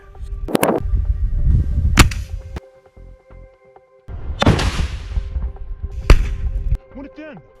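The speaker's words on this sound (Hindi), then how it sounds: "आईडीएफ के एक टैंक पर रॉकेट लॉन्चर से गोला फायर करता है, जिसमें जोरदार ब्लास्ट होता है" Combat in Rafah as a rocket launcher shell is fired at an Israeli Merkava tank: several sharp, loud blasts arrive a second or two apart, split by short quiet gaps and followed by a rumbling tail.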